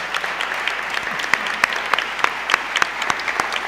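An audience at a Hispanidad event in Santa Pola claps together in steady, loud applause, with sharp individual claps standing out over the continuous patter and no voices.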